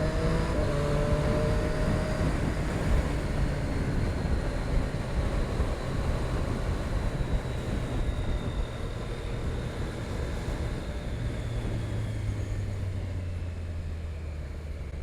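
A 2019 Triumph Street Triple RS naked motorcycle cruises at highway speed in the Philippines, with loud, continuous wind rush over a steady engine drone and a shift in engine pitch near the end.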